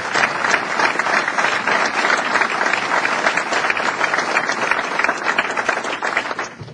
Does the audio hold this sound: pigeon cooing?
no